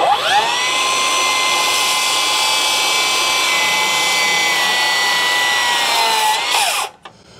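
A cordless circular saw whines at high pitch through a straight cut in lumber, holding a steady, loud tone before the blade spins down and stops near the end.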